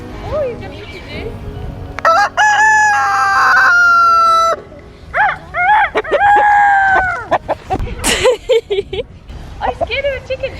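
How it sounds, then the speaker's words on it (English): A farm rooster crows loudly and close several times in long, strained calls, mixed with clucking and squawks, while people talk over and between the crows. "I'm scared of a chicken, dude."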